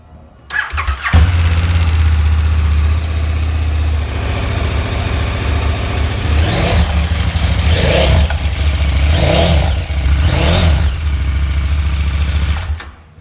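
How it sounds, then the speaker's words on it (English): A 2016 KTM Superduke 1290R motorcycle cranks and fires, then settles into a loud, close, lumpy idle punctuated by several sharp throttle blips that rev up and fall back before the engine cuts off. "So let's give it a quick start up so we can hear it as well."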